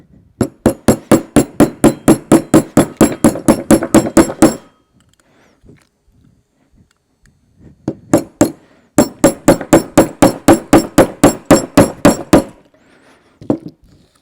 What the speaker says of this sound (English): we took the dowel and we tapped her down until we could catch the lip